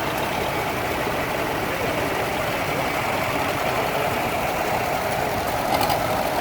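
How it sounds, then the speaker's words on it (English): A small John Deere H tractor engine runs steadily at an old gas tractor show in Mid Michigan, a continuous close-up chugging drone with no talk. "And here comes a little John Deere H."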